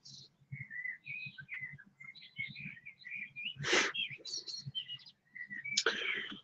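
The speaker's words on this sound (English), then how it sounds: "Those birds are loud." Birds chirp loudly outdoors, with repeated high tweets and short whistled calls close by in quick bursts, over a faint low murmur, and two sharp noisy bursts cut in midway and near the end.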